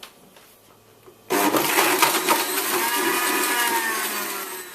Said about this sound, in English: you want to blend this for about 20 seconds on high